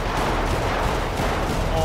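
A cannon attack during a Pokémon-style battle in GTA 5 RP: a dense, sustained roar of heavy firing that stays loud and unbroken throughout, with no distinct gaps.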